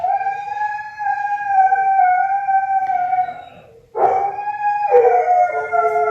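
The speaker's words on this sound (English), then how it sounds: "Sorry about my dogs, hang on." Dogs howl together in long, wavering tones close by, dropping away briefly before rising again into another sustained chorus.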